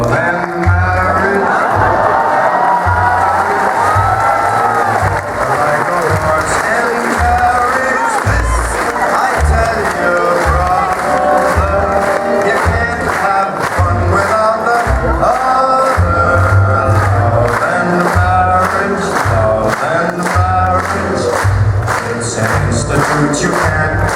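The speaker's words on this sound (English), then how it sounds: "A round of applause for our Dealer's Den director, Alpha Key!" Crowd cheering and applauding at a convention's opening ceremony, loud and sustained over music with a pounding beat, voices shouting throughout.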